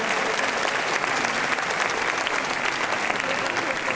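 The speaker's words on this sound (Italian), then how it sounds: "vorrei fare un applauso" An audience claps steadily and enthusiastically, a dense even wash of applause with no talking over it.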